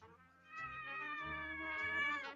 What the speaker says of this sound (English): The cat's name is Sirius?